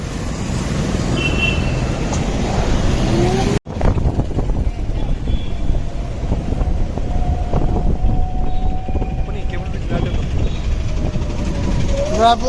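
An Ather 450X electric scooter rides at speed. Steady, loud road and wind rumble dominates, broken by a sudden brief dropout, and a faint whine rises and falls beneath it while a voice talks over it.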